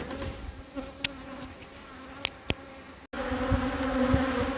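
Honey bees from a very large beehive exposed under a tin roof sheet swarm and buzz in a dense, steady drone, with a few sharp knocks; the buzzing swells louder and fuller partway through.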